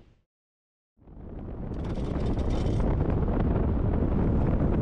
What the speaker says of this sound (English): You can probably hear that wind's picked up.